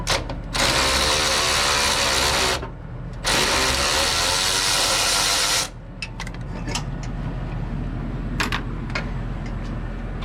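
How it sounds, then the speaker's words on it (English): Ratchet loosening engine mount bolts on a junkyard 5.3 engine: two long, loud bursts of rapid clicking, close up, followed by scattered clanks and metallic taps. "start loosening all these bolts and yank this thing out"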